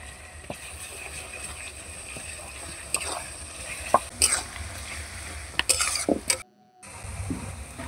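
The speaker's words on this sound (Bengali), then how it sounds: "ভালো করে নাড়াচাড়া করে পেঁয়াজটা ভাজা ভাজা করে নিতে হবে" Sliced onion frying in a pan for a Kashmiri-style chicken kanti, with a steady close sizzle under scraping spoon strokes and a few sharp clinks against the pan, broken by a brief pause near the end.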